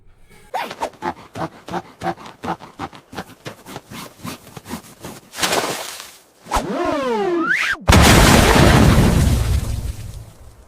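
In Minecraft, the Wither boss fights iron golems: a run of rhythmic thumping hits gives way to rising and falling eerie wails, then a loud, booming explosion that rumbles on afterward.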